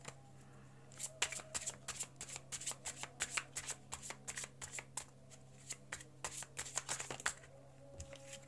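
Playing cards are spread and shuffled close by, giving a run of sharp, papery riffles and flicks in quick irregular bursts over a faint steady hum.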